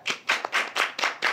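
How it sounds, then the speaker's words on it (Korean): Several sharp hand claps land in a quick, even rhythm, about six in a row, close and clear with nothing else around them. "기사님께 박수 한번 치시죠."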